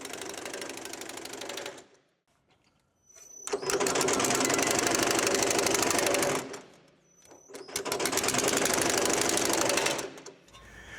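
A power hammer pounds a metal panel during shrinking work, running in three sustained bursts of rapid, loud mechanical hammering separated by brief pauses, with no talk.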